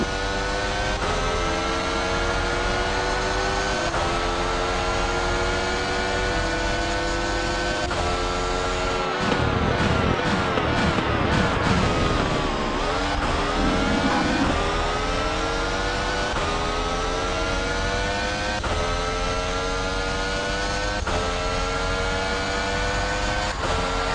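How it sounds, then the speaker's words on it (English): Open-wheel race car engines in the Monoposto racing game, loud and continuous with rising and falling gear-shift whines, several cars close together mid-race, a brief denser burst as cars bunch up, no voices. "we can finally find a car and try to overtake Gabriel Bortoleto."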